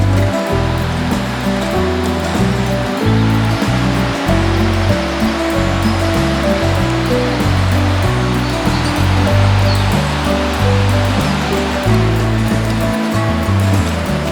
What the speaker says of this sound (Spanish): como este caer del agua que albergan los macizos que nos rodean